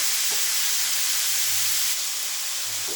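Small chopped tomato pieces sizzling in a hot pan for an onion-leaf and tomato curry, a steady loud hiss of frying with faint low bubbling underneath, close and unbroken.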